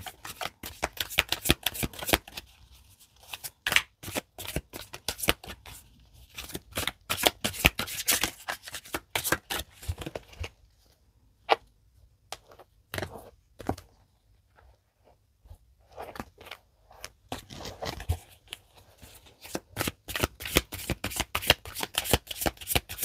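Tarot and oracle cards are shuffled close up in quick rapid riffling bursts, separated by short quiet pauses and a few isolated taps.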